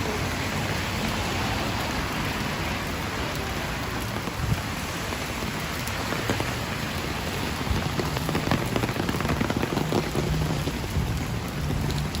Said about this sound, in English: Gee, the rain's really catching that umbrella at times.